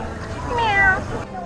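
A single drawn-out meow, rising then falling, sounds close and clear, voiced by a person imitating a cat.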